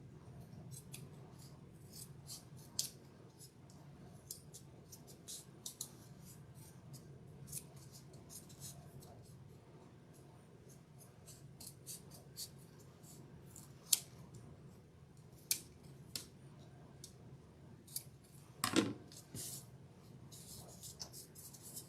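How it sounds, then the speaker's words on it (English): Scissors trimming craft foam for a Little Mermaid craft project: faint, sparse snips and crisp cuts scattered at an uneven pace over a quiet room, with one louder scrape near the end. "I'm going to trim this down."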